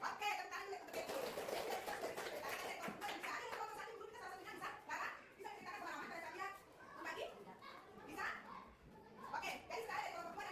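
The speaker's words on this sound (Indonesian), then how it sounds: "Oke, tepuk tangan dulu untuk ibu." A classroom of children claps for their teacher in bursts of hand claps mixed with kids' chatter and a teacher's voice, busy and fairly close.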